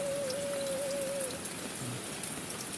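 Heavy rain pours steadily onto a camping tent in a forest, a dense unbroken hiss close by, with a thin wavering tone over the first half and no voices.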